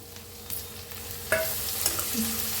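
Chopped tomatoes are stirred and fried in a pan with roasted black horse gram, a close, continuous sizzle broken by a few scraping stirs and spoon knocks.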